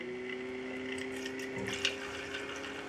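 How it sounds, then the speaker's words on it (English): A homemade magnetic stir plate spins a flask of apple cider yeast starter, giving a steady close motor hum with a soft swirling wash of liquid and no voices. "now I will turn on the stir plate, the homemade magnetic stir plate"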